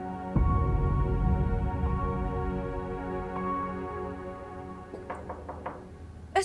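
Knocking on a door: a single sharp knock opens, then after a pause a quick cluster of several raps follows near the end, heard fairly close over a low hum of room noise.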